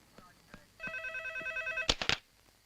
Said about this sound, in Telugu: అయితే ఫోన్ చేసి ఇవ్వు